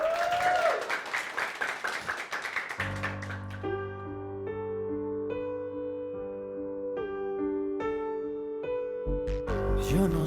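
A crowd applauds a singer for about three seconds on a television show. The clapping then gives way to a sustained musical accompaniment with held tones and no voices.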